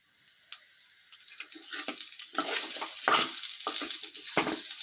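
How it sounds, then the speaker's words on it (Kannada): Chopped onion dropped into hot oil and stirred for tomato chutney, a bright crackling sizzle that swells as the pieces hit the pan, broken by a few scraping stirs, close and fairly quiet. "ಇದನ್ನು ಸ್ವಲ್ಪ ಎಣ್ಣೆಲಿ ಚೆನ್ನಾಗಿ ಹುರ್ಕೊಳ್ಳೋಣ"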